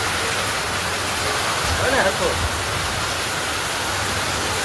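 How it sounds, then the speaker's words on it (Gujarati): Heavy rain pours down in Nesadi village, a thick steady roar of falling water close by, with a brief voice speaking softly beneath it. "તો કેવો અંધારો વરસાદ, ફૂલ વરસાદ આવી ગયો છે"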